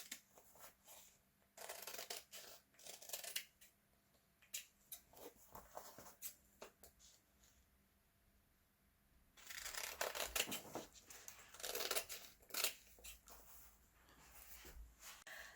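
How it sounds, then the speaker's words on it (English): Fabric being cut with scissors around drawn lines for a Christmas Santa appliqué sack, a run of quiet, close snipping and rustling bursts with pauses in between and no talking. "carefully cut round the lines that you've drawn."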